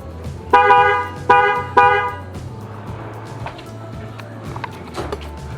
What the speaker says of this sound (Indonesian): itu yang Denso trompet yang waterproof